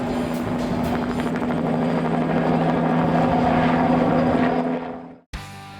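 Helicopter in flight, a steady loud rotor and engine drone with a strong low hum and rhythmic blade chop, holding close and constant for about five seconds before cutting off abruptly into a brief different noise.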